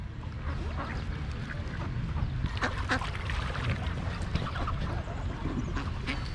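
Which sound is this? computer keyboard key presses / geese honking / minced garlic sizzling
geese honking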